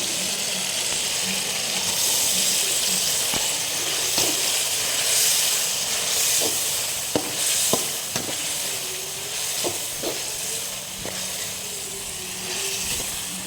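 Onions frying deep brown in a pan with ground ginger, garlic, cinnamon and clove paste for chicken gravy, a loud continuous sizzle and hiss with scattered spoon scrapes and taps, close and steady, no talk.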